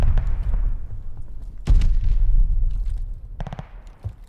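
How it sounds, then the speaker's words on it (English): Sticky bomb thrown and detonating in Call of Duty: Vanguard battle royale, a sharp loud blast near the middle followed by a rumbling tail, with scattered gunfire cracks before and a quick volley of shots near the end. "Tossing a sticky bomb."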